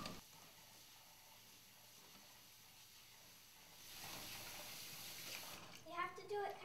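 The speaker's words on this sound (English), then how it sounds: "Before you cook the rice, you always have to rinse the rice." Rice is rinsed in water in a home kitchen, with a faint steady splash and swirl that grows louder midway, then brief sloshing at the end; a voice talks faintly.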